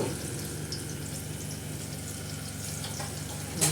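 Chopped onions fry steadily in a pot for Hyderabadi biryani, browning to a reddish colour, with a continuous close sizzle and a short louder crackle right at the end.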